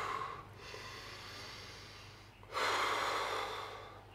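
During a rest between chest exercises, a person breathes deeply and close to the microphone. Two long airy breaths sound with a short pause between them, and the second is louder. No one speaks.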